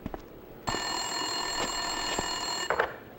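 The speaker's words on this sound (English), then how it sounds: "Winterson's phone was ringing." A telephone rings in the game Max Payne 2, one steady electronic ring lasting a few seconds, with a couple of faint clicks before and after it and no talk.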